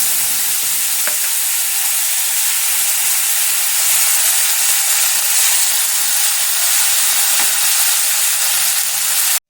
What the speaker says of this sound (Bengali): এবার আমি সর্ষে বাটাটা এর মধ্যে ঢেলে দিচ্ছি।